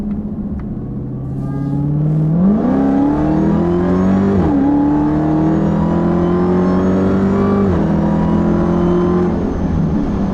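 A 2015 Dodge Charger Hellcat engine revs loudly while driving, its pitch climbing in steps through gear changes and holding a steady, rumbling drone close by, with no talk.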